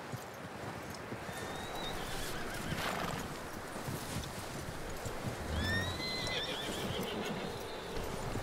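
A horse in Red Dead Redemption 2 neighs and whinnies in high rising squeals, twice, with hoof clops and rustling against a dense outdoor ambience.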